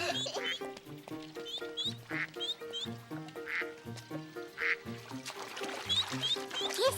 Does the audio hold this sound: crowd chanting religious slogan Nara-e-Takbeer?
no